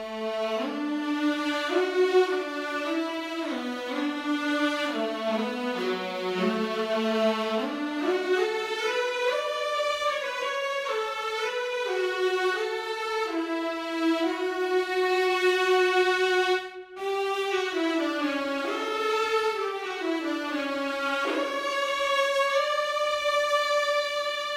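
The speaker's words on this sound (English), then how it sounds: "Jade opts to go with the morankur, which is a Mongolian stringed instrument." A bass morin khuur, the Mongolian horsehair-string fiddle, played by the Jade Ethnic Orchestra, bows a slow, low, droning melody with rich sustained tones that glide between pitches continuously, close and alone with no talking.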